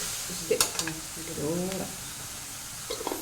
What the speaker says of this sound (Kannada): ಸ್ವಲ್ಪ ಸ್ವಲ್ಪ ಉಪ್ಪನ್ನು ಸೇರಿಸ್ಕೊಂಡ್ರೆ ಈರುಳ್ಳಿ ಬೇಗ ಫ್ರೈ ಆಗುತ್ತೆ